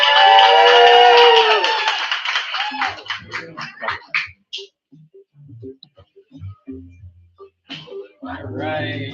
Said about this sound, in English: Let's clap it up for Rico!